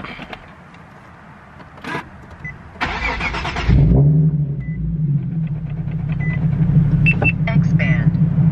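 A VQ engine cranks and fires up through a loud catless test-pipe exhaust, settling into a deep, rumbling idle that holds steady and close, with a few brief beeps and clicks in the background.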